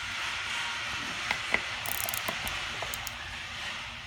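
A torque wrench tightens a pulley on a CF-120 diesel pump, giving a series of small close ratchet clicks at irregular intervals over a quiet background hiss.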